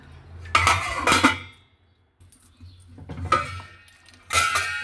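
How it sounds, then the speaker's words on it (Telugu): Metal lid set onto a cooking pot of oats upma on a stove, giving a few close, loud clanks and ringing metallic clinks in separate bursts with short pauses between. "ఒక సిమ్లో పెట్టి మూత పెట్టేస్తాను"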